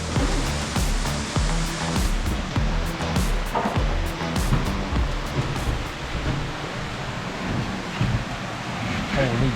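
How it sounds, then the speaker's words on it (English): A big waterfall roars inside a cave as a steady, dense wash of rushing water, loud and close throughout. "You'll see a big waterfall."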